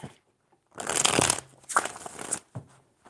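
Tarot cards are shuffled in a few quick riffling bursts, close and crisp, with short pauses between them and no talking.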